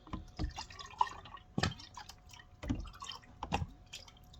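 Water drips and trickles out of a hot sublimation tumbler press holding a 20oz tumbler, a run of small wet drops and splatters in uneven bursts, close and fairly quiet.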